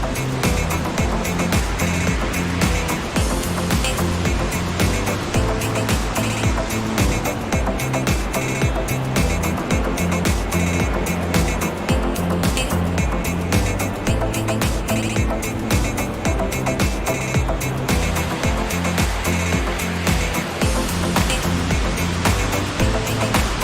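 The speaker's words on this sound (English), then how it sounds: "Just listen to that water roar." A mountain river near Vail roars loudly and continuously close by, a dense, unbroken rush of churning water with no pauses and no voices.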